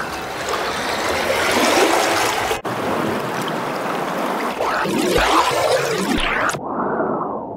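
Ocean wave sample played through a music filter plugin, a continuous washing surge of water that swells and shifts in tone as it is modulated, then cuts off abruptly near the end, no voices.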